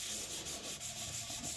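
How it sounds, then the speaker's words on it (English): Sandpaper rubbing over two-tone cardstock in quick back-and-forth strokes, a close, soft rhythmic scratching with short repeated passes and no talk. "You also want to move your sandpaper around a bit"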